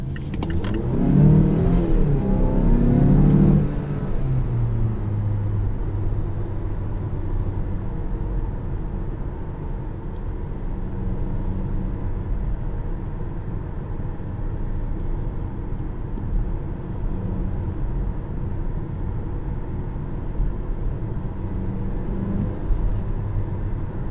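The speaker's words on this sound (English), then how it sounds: "You might be able to barely hear that little turbo blow off." A 2019 Mazda CX-5 turbo accelerates under load, heard from inside the cabin as a steady, loud low engine drone and road roar, with a brief surge at the start; no distinct blow-off stands out.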